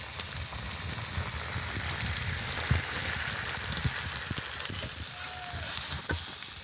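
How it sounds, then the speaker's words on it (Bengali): Chicken and capsicum frying in a pan at home, a steady, dense sizzle with crackling pops, close and continuous throughout. "আজকে চিকেনটা ক্যাপসিকাম দিয়ে রান্না করলাম।"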